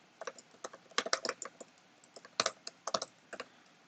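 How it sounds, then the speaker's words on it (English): Clattering keystrokes on a computer keyboard, irregular bursts of quick clicks separated by short pauses, close and fairly quiet in a still room with no talking. "just typing this out as I speak"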